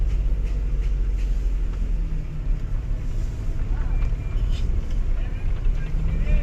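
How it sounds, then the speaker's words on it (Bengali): A manual-transmission car pulls away in first gear, its engine a steady, close, low rumble that holds level for several seconds with no clear break. "এই যে এক গিয়ার, দেখেন গাড়িটা যাচ্ছে।"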